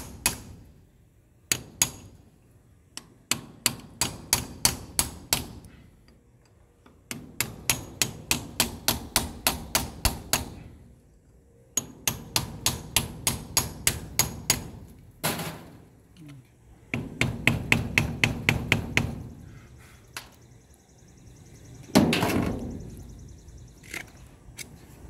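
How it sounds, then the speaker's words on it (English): A hammer strikes a huge geode to crack it by hand with common tools: close, sharp metallic blows land in fast rhythmic runs of about a dozen each, with short pauses between the groups and a few heavier scraping knocks near the end. "I'll hit here a few more times and I'll move it down to the next spot."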